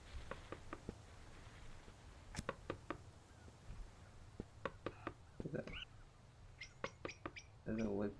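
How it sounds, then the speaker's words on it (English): A woodpecker in a bird-watching video game gives sharp, separate taps in short, irregular bursts, quiet and close, with faint chirps and low ambient background between them. "There's a woodpecker around here."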